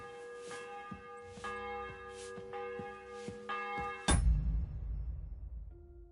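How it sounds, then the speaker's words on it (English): A church bell tolls in the video game Kingdom Come: Deliverance 2, four or five rhythmic ringing strikes with long harmonic sustain, clear and near, then a dull thud ends it. "The bell's ringing for Hans the 5th time."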